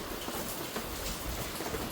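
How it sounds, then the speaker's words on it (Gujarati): Heavy rain pouring down near a parked car, a dense continuous hiss of drops drumming on surfaces, steady and moderately loud throughout. "વરસાદ તો ભૂકા કાઢ નાખ્યા"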